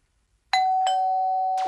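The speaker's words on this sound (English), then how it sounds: "It sounds like a doorbell." A two-tone doorbell chime in a children's cartoon rings out after a moment of silence, a clear ding followed by a dong that lingers and rings on.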